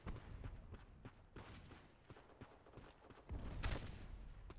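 Rapid gunfire from the online shooter Black Squad in a team deathmatch on the Tallinn map, a run of sharp cracks with a louder burst near the end, with no talk.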